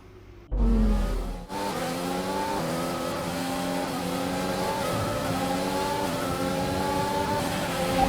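A Formula 1 car engine in the F1 2021 video game revs hard at the race start, a steady high-pitched whine climbing through gears after a brief roar, loud and continuous.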